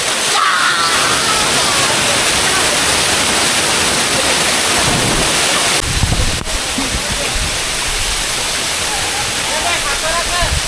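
Khaiyachhara waterfall in Sitakunda roars with a loud, continuous rush of falling water that stays dense and unbroken throughout, with a brief disturbance near the middle.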